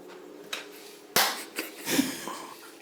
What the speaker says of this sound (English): I do a clap